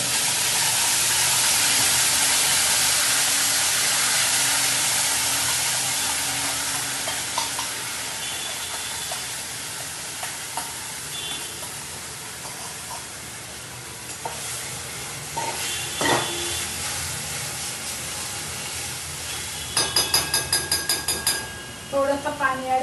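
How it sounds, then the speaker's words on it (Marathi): Blended date, tamarind and jaggery chutney paste sizzles loudly after hitting hot oil tempered with cumin, a dense steady hiss that gradually softens, with scattered stirring clinks toward the end and no talking. "मिक्सरमधून काढलेलं टाकून देऊया."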